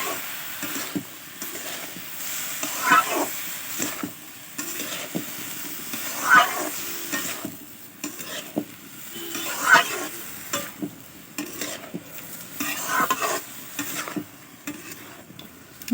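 Food cooks in a pan for a rustic pumpkin vegetable dish as turmeric is stirred in, a low sizzle under repeated scraping strokes and occasional clinks, steady over a long stretch without speech.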